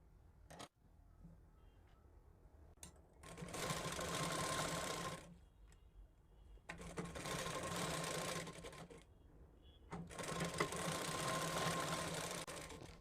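Sewing machine stitching a blouse hem in three steady bursts of rapid mechanical clatter, each a few seconds long, with quiet pauses between them.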